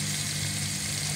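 Garlic searing in a hot pan: a steady, even sizzle that fills the short stretch, up close and unbroken.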